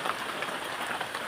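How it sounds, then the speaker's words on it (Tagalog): Heavy rain pours down outdoors in a dense, steady hiss of drops hitting surfaces, close and continuous, with no voices. "Malakas kasi yung ulan guys."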